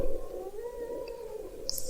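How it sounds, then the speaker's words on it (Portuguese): A pet cat meows beside someone teaching a genetics lesson at home, a drawn-out wavering mew with a faint higher chirp near the end, close and moderately quiet over a low room rumble. "essa é a minha gata que quer estudar genética"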